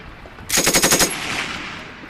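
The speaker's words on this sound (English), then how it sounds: "units from the arsenal, the naval base, and the Faravelli barracks charge with machine guns." A short, loud burst of machine gun fire of about eight rapid, evenly spaced shots, from a wartime battle at La Maddalena in September 1943, then fading into a low rumbling tail.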